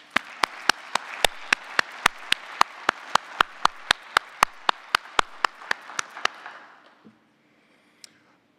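Loud, sharp claps from one or two people near the microphone beat out a steady rhythm over softer crowd applause at a closing general session, about twenty claps in seven seconds before everything cuts to near silence.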